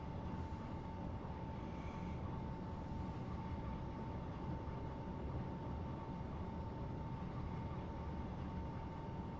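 Steady low rumble of a train running along the Southampton to Bournemouth line in Train Sim Classic, a continuous engine and wheel drone with a constant hum, unbroken and fairly quiet throughout with no talk.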